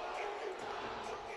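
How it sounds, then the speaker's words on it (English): A hockey arena crowd at a Jacksonville Icemen game gives off a steady, dense buzz of many voices blended into a continuous roar, with no single sound standing out. "This crowd is buzzing right now"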